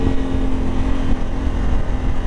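Honda Africa Twin 1100 Adventure Sports ES DCT motorcycle, a 2021 model, pulling away hard from a stop with full throttle, a loud, steady engine roar with low rumble close by.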